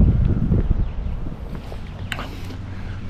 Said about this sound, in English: It's a windy day. Sunny but windy, and it's cool.